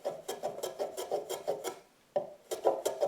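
A hand file rasps across the end edges of a wooden workbench leg, bevelling them in a quick run of close, rhythmic strokes, a brief pause, then more strokes.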